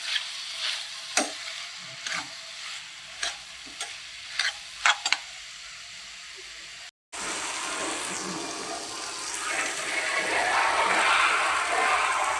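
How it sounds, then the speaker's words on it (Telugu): Mixed vegetables for pulao fry in oil in a pan. A steady sizzle runs throughout, with several sharp clinks of a spoon stirring against the pan in the first half. The frying grows louder and denser toward the end. "ఇది బాగా ఫ్రై అవ్వాలండి."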